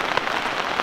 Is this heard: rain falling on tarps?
yes